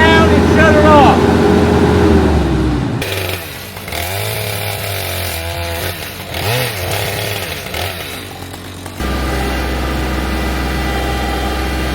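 A forestry mulcher's diesel engine roars loudly, then drops to a lower idle with rising and falling revs and a clanking pause, before settling into a steady idle hum again.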